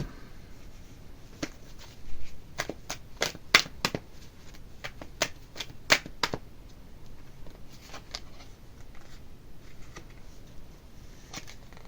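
Playing cards being shuffled, a burst of quick riffling flicks in the middle with scattered softer card sounds before and after, close and quiet.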